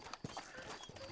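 Horse hooves clip-clopping in the Red Dead Redemption video game, a short run of hoofbeats amid game sound.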